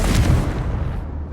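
A Confringo fire spell blast in the Hogwarts Legacy video game lands as a loud, close, booming burst that rolls into a dense rumbling decay, heard alone without talk.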